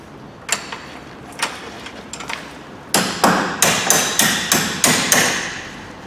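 Hammer tapping a bolt through the lower suspension ball joint of a Peugeot 407, with a few light scattered taps and then a steady run of about eight sharp metallic blows, close and loud.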